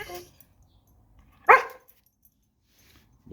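A single sharp, playful bark from a dog wanting to play, near and fairly loud, breaking an otherwise quiet garage setting, with faint voice fragments at the start and end.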